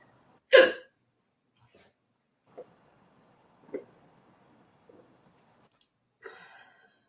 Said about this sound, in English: Listen, I have hiccups again, so I'm not going to speak.